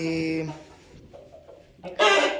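A Blue Brahma rooster calls with a couple of short, loud, harmonic bursts separated by a quieter gap, close to the listener.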